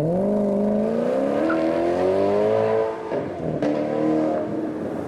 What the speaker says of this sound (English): He's driven off and made a lovely exhaust note as he leaves.